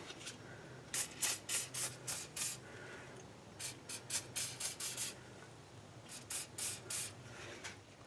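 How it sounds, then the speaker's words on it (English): Penetrating fluid sprayed around a ball joint on a Mitsubishi Raider or Dodge Dakota, heard as three close clusters of short hissing spray bursts, each run of four to six quick puffs separated by brief pauses. "put some of your favorite penetrating fluid around this"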